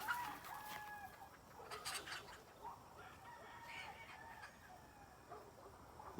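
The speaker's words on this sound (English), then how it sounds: "that might be the rooster getting one over" A rooster crows faintly and at a distance among free-range chickens grazing thick grass on a two-acre homestead, with two drawn-out calls over a soft outdoor background.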